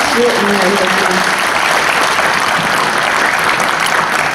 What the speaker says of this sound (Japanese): 皆様盛大な拍手をお願いいたし